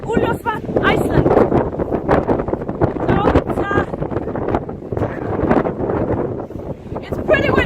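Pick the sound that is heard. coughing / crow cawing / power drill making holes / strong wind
strong wind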